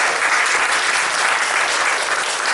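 Loud, steady applause from an audience at a community event, a dense wash of clapping that carries through without a break.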